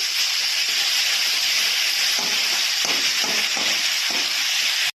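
Tomato hits fried pointed gourd in a hot oiled pan, producing a loud, continuous close hiss and sizzle with a few soft knocks of stirring, alone without talk, cutting off abruptly at the end.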